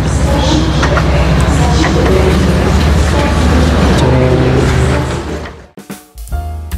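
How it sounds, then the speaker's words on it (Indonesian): Inside the Serayu economy-class passenger train, a loud steady rumble of running wheels and cabin noise fills the space, then cuts off abruptly near the end, followed by a few clunks. "ini dia kereta api Serayu ya"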